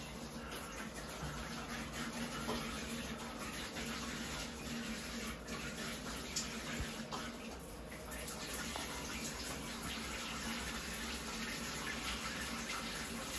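Steady, thin stream of weak water flow from a Kohler 8304 thermostatic shower valve, hissing continuously at low volume with no pauses.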